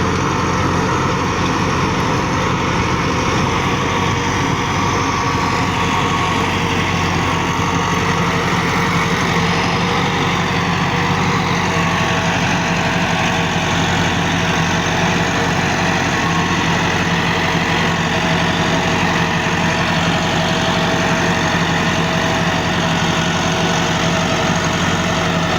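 A 375 tractor engine runs steadily with a 60-blade rotavator, a continuous low diesel drone with a constant idle-like rumble throughout, loud and close with no talking.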